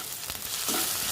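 Curry leaves hit hot oil in a chicken biryani pan with a steady, close sizzle and crackle that briefly flares as they go in, then settles into a continuous fry.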